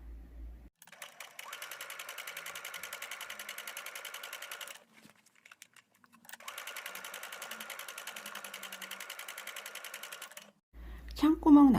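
A sewing machine runs along the brim edge of a fabric hat in two steady bursts of rapid, even stitching, with a brief quiet pause between them. It is close and moderately loud, and a short rustle follows at the end.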